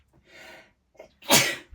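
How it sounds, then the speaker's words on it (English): A single loud, close sneeze bursts out after a soft breathy intake and a short gasp, set indoors during a craft session working on the pages of a grungy ring-bound journal. "sneeze. I didn't have time to stop the camera"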